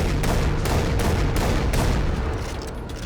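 Rapid gunfire from a weapon in Far Cry 3 Blood Dragon crackles in a dense burst of closely spaced shots, loud and continuous for a few seconds, tapering slightly at the end.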